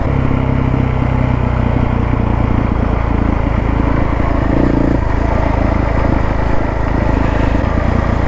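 Dirt motorcycles, a Honda CRF450L and a KTM 690, ride a rough fire trail, engines droning loud and steady close by with changes in throttle throughout and no talk.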